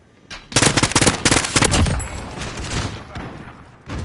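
Assault rifle fire in the Modern Warfare video game: loud, close bursts of rapid automatic shots that stop and start, then a fading tail and another shot at the end.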